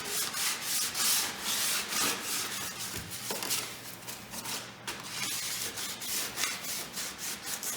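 Steady hand sanding rasps across wooden trim on a kitchen cabinet, a close scratchy rubbing in repeated back-and-forth strokes with no talking.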